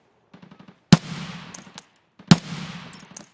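Two heavy, sharp gunshots from a rifle in Escape From Tarkov, fired about a second and a half apart through cover at a rogue, each ringing out with a long echoing tail, preceded by faint footstep-like ticks.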